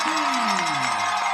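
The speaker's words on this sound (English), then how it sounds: "we have a big crowd here" Big crowd in the stands at a high school football game, a loud wash of many voices cheering and calling out, with a falling whistle-like tone cutting through near the start.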